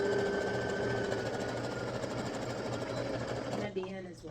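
A sewing machine backstitches the seam of an Ankara fabric gathered skirt, giving a steady close mechanical whir that runs without a break and stops abruptly near the end.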